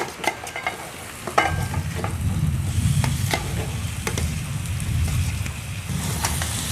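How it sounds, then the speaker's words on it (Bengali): Mashed yam sautés with spices and chopped garlic in a pan, giving a steady, close sizzle broken by sharp scraping and stirring knocks. "এখন মশলার সাথে ওলটাকে ভালো করে কষিয়ে নেব।"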